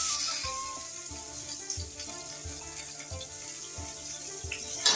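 Onions poured into hot oil with cinnamon and whole spices for a Bengali egg curry, a loud steady sizzle and hiss of frying with light stirring scrapes and no talk.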